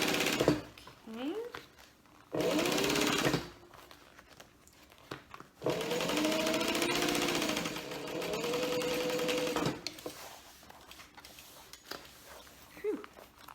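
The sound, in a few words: sewing machine stitching a bag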